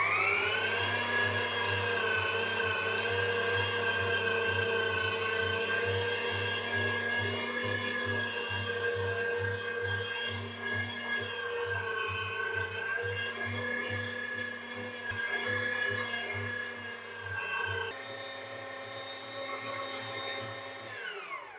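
AOBOSI electric meat grinder forcing meat through its smallest plate, a steady loud motor whine with a pulsing rhythm that dips slightly in pitch under load and shifts near the end.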